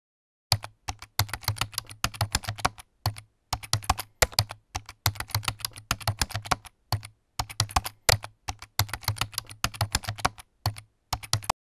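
Python code typed on a computer keyboard in a children's programming lesson, rapid close clicking keystrokes in bursts separated by short pauses, no talking.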